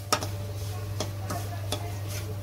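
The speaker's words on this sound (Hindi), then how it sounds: "चलाते हुए भूनना है, चलाते हुए।" A spoon stirring semolina as it roasts dry in a pan for halwa, faint scraping strokes at irregular intervals over a low steady hum.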